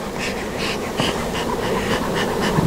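Honeybees buzz steadily around an open hive during a hive check, a close, continuous swarm hum with individual bees whining past in short swells.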